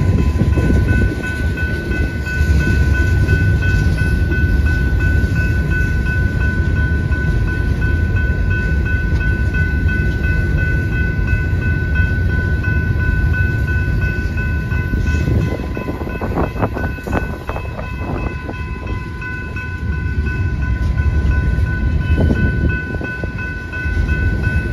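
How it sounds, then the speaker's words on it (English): Train rolling through the small town of Sinton, Texas, a steady loud rumble of railcars that holds throughout, with clicking wheel noise rising near the end. "Let me see if I can catch us a train coming."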